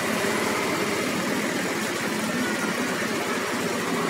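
A Yamaha Aerox scooter engine runs at a steady idle, a loud continuous close-up hum with an even low throb and no pauses.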